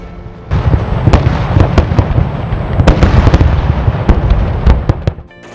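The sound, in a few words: fireworks and loud crackers exploding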